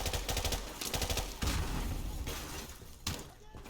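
Video game gunfire from Call of Duty: Modern Warfare Remastered, a dense fusillade of rapid shots with sharp bursts and crashing impacts, loud and continuous over the whole stretch with a few louder blasts.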